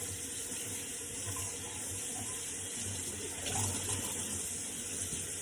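A tap runs steadily into a sink while dyed fabric is rinsed under the flow, giving a continuous close splashing wash of water with no voices.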